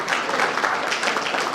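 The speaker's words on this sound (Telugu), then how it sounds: "ఒకసారి ఆ మేడాన్ని మీరు అందరూ కూడా మీ చప్పట్ల ద్వారా ఆశీర్వదించాలని కోరుతున్నాం" An audience at a teachers' union award ceremony in the city claps steadily, a dense, even burst of many hands for a short moment.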